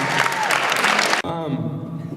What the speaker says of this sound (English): everybody give Josh a round of applause